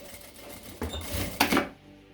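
A sewing machine runs in short stitching bursts around the edge of a fabric wallet, close and fairly loud, with brief pauses between runs.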